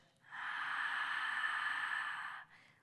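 A single long, soft breath is exhaled through the mouth during a pilates side stretch, a steady airy whoosh lasting about two seconds, close and quiet, with no talk.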